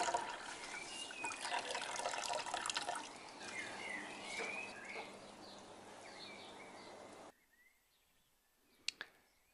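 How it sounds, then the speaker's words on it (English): Elderflower juice squeezed out by hand, trickling and dribbling steadily for several seconds and slowly fading, then near silence with a couple of faint drips near the end and no talking. "And squeeze out the rest of the juice by hand."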